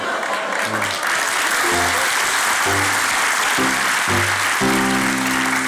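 Studio audience applause on a Turkish comedy talk show, a steady wash of clapping with intermittent voiced, tonal sounds layered over it.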